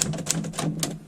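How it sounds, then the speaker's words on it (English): Rapid, uneven keystrokes clatter on a Smith-Corona mechanical typewriter that has two ink colors, with sharp clacks and several louder strikes as gibberish is typed, heard close and alone. "I'm just typing gibberish because it's hard to film and concentrate on typing at the same time"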